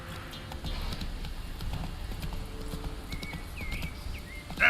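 Horse hooves clip-clop at a steady trot in the video game The Witcher 3, fairly quiet and continuous, with a short whinny-like squeal near the end.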